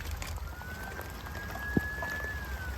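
Rain comes down steadily on a garden on a very wet day, a constant soft patter and hiss with one brief knock midway.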